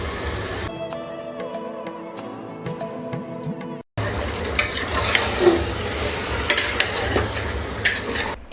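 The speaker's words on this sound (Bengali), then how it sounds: "এখন মরিচ দিয়ে দিব।" A spice paste with chili fries in a pan, giving a continuous sizzle with scattered utensil scrapes and clinks, broken by a brief silent gap partway through.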